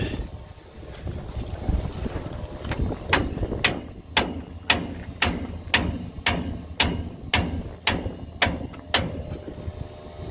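Steady, loud hammer blows on antique farm equipment, about a dozen sharp metallic strikes at a regular pace over wind noise outdoors.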